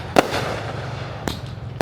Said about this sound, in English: why are the fireworks shooting at an angle?